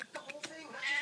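A cat meows a few times up close, short plaintive calls followed by a higher, drawn-out cry.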